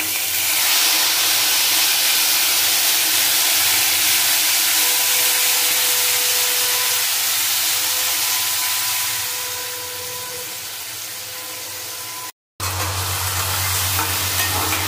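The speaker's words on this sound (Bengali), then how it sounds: "কেটে রাখা আনারসটা দিয়ে দেবো।" Cut pineapple hits a hot pan of spices for a sweet chutney, giving a steady, close sizzle with stirring scrapes that run continuously, then resume louder after a brief gap.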